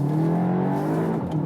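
A VW Arteon R Shooting Brake pulls away in first gear out of a hairpin corner, its engine note rising and droning strongly, close and loud, with a brief dip near the end.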